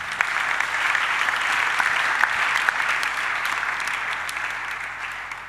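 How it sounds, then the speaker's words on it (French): A church congregation claps together in sustained, dense applause that fills the space evenly from start to finish, loud and continuous with no voices on top. "Acclamez pour vous-même."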